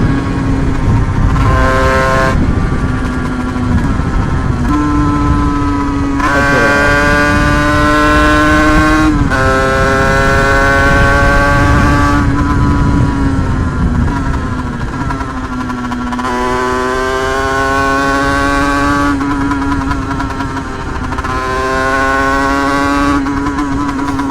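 A Sherco 125 motorcycle with a 74 cc Terzo cast-iron cylinder runs steadily close by, its two-stroke engine note rising and falling through several revs for about twenty seconds with no talking.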